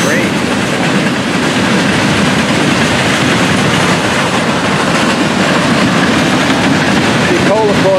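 A long freight train rumbles past at close range, wheels clattering steadily over the rails with a loud, continuous roar and a brief squeal near the end.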